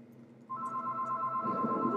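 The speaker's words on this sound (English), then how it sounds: "Our phone's ringing." Phone ringing in the Roblox game Stop it Slender: a steady electronic ring tone starts partway in and continues at moderate, fairly faint level over low background noise.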